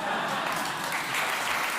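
Studio audience applause in a radio comedy sketch, a dense continuous wash of clapping held steady at moderate loudness for under two seconds.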